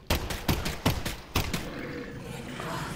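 Four gunshots from a handgun in the VR shooter Half-Life: Alyx crack out at a steady, spaced rhythm, each sharp and close, followed by a low rumbling ambient hum.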